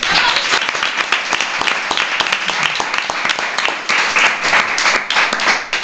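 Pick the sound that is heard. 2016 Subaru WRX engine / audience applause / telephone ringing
audience applause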